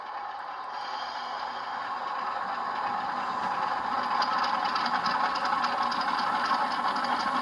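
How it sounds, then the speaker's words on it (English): A model Rapido FA-2 diesel locomotive fitted with an ESU LokSound decoder, its prime mover sound revving up to higher RPM, a steady mechanical drone with rattle that gradually grows louder, no voices. "Hear the locomotive rev up in the RPMs, prime mover."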